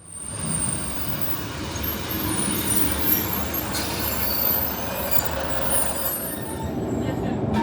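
A Northern passenger train pulls into Newton Aycliffe station close by, with a rumbling approach, rail noise and high wheel squeals that rise and fade, while someone talks over it.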